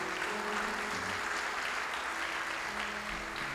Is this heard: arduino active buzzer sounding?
no